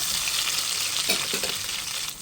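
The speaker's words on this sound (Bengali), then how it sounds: "তো প্রথমে আমি পেঁয়াজ কুচিটা দিয়ে দিচ্ছি, তারপর দিয়ে দেবো কাঁচামরিচ" Chopped onion and green chilies frying in a pan for an egg and tomato fried rice, a steady, close hissing sizzle with faint stirring clinks partway through.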